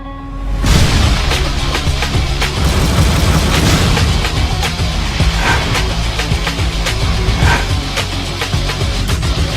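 Explosions and weapon fire from the Halo Reach video game crash loudly after a sudden onset, followed by a dense, continuous roar of booms and blasts with sharp repeated impacts.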